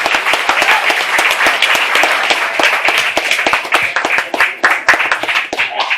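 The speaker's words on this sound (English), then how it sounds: "And let's have a round of applause." A seated audience at a community Seniors of the Year awards ceremony claps in a steady, dense round of applause. It stays loud and even throughout, with individual hand claps crisp and close.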